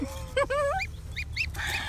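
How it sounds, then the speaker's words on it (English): Several geese honk in quick, rising calls close by, overlapping over a faint background hum. "Celebrating with some geese."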